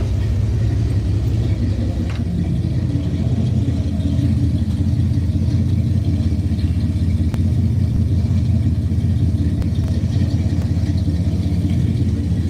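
A car engine idles at a slightly lowered speed after the idle air control was adjusted, giving a loud, steady, close-up low rumble that never changes and has no talk over it.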